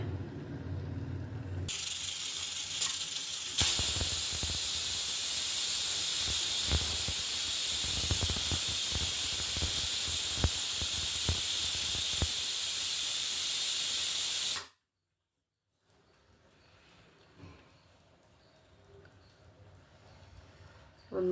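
A pressure cooker on the stove blows a long, loud steady whistle of hissing steam while tomato rice cooks, cutting off abruptly, followed by quiet faint kitchen clatter.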